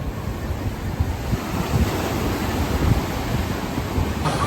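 Surf rolling in at Cronulla Beach, a steady broad wash of breaking waves with wind buffeting the microphone throughout, loud and continuous with no one speaking.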